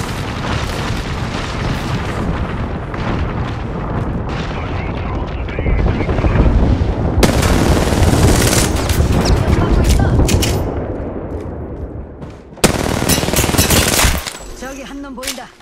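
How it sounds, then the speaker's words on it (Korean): An artillery strike in the Apex Legends video game brings dense machine-gun fire, booming explosions and rumbling blasts. It is loud and continuous, with sharp bursts near the end and game voices talking over the noise. "신호에 포격을 요청한다."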